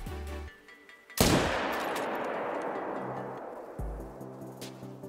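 A single loud rifle shot rings out in theHunter: Call of the Wild hunting game, with a long rolling echo decaying over several seconds, framed by low game ambience and interface tones.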